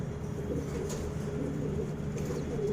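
Pigeons coo nearby in soft, repeated throaty calls over a low background hum, with no one talking.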